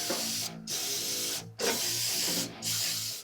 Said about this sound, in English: Blow this off with some contact cleaner and wipe down the skid plate.